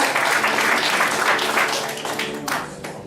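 Church congregation applauding during a Sunday service, a steady dense wash of clapping that swells and then tapers slightly, with a voice faintly audible over it.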